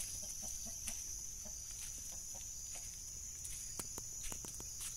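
Farm chickens on a rural homestead, a hen among them, clucking in short scattered calls with a few sharper peeps over a faint steady background hiss.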